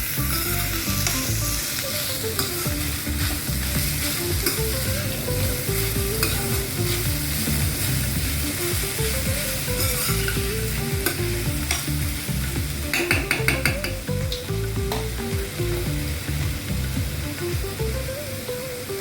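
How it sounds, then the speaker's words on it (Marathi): Grated raw mango sautéed in a pan gives a continuous sizzle with repeated stirring scrapes, steady and close, over quiet background music. "ती कैरी आपण घालणार आहे. पण थोडी परतवून घेऊया."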